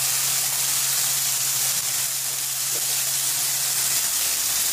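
Ginger garlic paste sizzles in a hot pan while breakfast is cooked, a steady broadband hiss with a low hum underneath, continuous and fairly loud with no voices.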